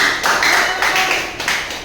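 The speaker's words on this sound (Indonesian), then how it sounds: "terima kasih, tepuk tangan semua" A classroom of students clapping their hands together, a short burst of loud, fairly synchronized claps in a few pulses, close and alone.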